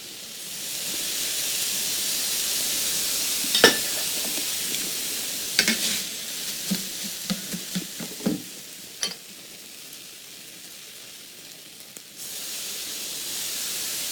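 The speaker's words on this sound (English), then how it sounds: "I'm adding just a little bit of the broth in there just to kind of get the rice to sizzle" A loud, steady sizzle of rice in broth hisses up close, broken by a few stirring scrapes and clinks before easing off, then the hiss surges back near the end.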